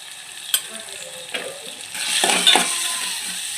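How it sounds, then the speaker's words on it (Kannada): North Karnataka masala powder and turmeric fry in a pan for tomato sambar: a soft sizzle builds while a spoon scrapes and clinks against the metal a few times, close up, no speech. "ನೋಡಿ ಇವಾಗ ಇದನ್ನು ಸ್ವಲ್ಪ ಚೆನ್ನಾಗಿ ಫ್ರೈ ಮಾಡ್ಕೋಬೇಕಾಗುತ್ತೆ"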